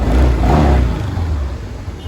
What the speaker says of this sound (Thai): รอบเครื่องยนต์ปกตินะครับ